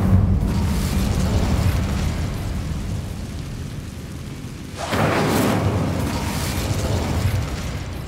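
An Incendio fire spell erupting in Hogwarts Legacy: a rumbling, roaring fiery blast over a dense low background. A second surge of crackling fire swells up midway and keeps burning loudly.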